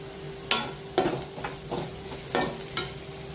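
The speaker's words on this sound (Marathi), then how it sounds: "कांदा छान 5 मिनिट परतून घ्यायचा" Chopped onion sautéing in oil in a pan, with a soft steady sizzle punctuated by several sharp scraping stirs of a spoon at irregular intervals, close and alone.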